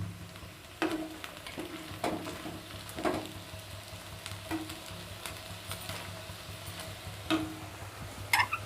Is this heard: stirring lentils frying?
yes